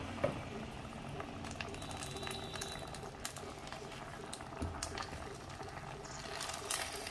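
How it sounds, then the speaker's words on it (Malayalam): Sardine curry in coconut milk boiling in a pan, a faint, steady bubbling and simmering heard close with no talk, and a few small clicks along the way. "തേങ്ങാപ്പാൽ നന്നായിട്ട് തിളച്ചിട്ടുണ്ട്."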